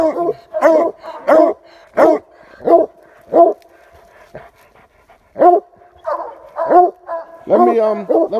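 A hunting dog on a raccoon hunt gives loud, close barks in uneven bursts, with pauses between them and a faint background tone.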